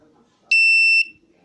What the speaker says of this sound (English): the sensor will passes the signal to the buzzer